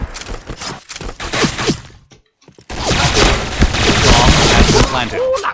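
Explosions and heavy gunfire from a team shooter match, dense loud bursts and booms with a brief silent gap, while players talk excitedly over the action.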